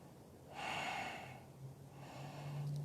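A slow yoga breath during a power yoga class: a soft, airy exhale swells for about a second, then a quieter second breath follows, close to the mic with faint room tone and no talking.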